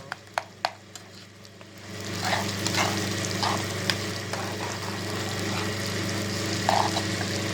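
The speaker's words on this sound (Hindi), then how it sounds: "इनको सही फ्राई करना है अभी हमें सही तरीके से।" Egg and potato frying in a pan in a village kitchen: a steady sizzle with a low hum underneath, a few sharp utensil clicks early on, then occasional scraping stirs.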